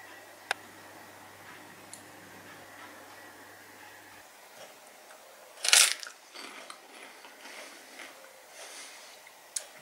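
A crunchy rice cake gets bitten into once with a loud, sharp crunch midway, followed by softer chewing, over a quiet indoor background.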